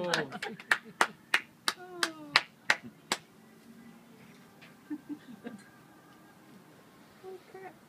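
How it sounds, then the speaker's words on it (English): Hands clap at a marriage proposal in a quick, close burst of sharp claps over about three seconds, followed by softer scattered claps. Voices are faintly audible beneath. "Clap! Everybody clap!"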